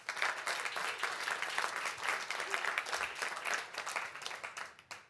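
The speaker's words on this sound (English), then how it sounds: "So round of applause for YouTube." Audience at a science and media panel in New York City applauding steadily for several seconds, a dense, even wash of many hands clapping fairly close, with a faint voice briefly underneath.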